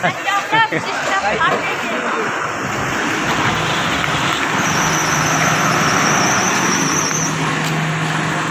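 An Udgir–Pune bus pulls away from the Vallabhnagar bus stand, its engine a steady rumbling roar that builds and carries on throughout, with chatter and voices in the background.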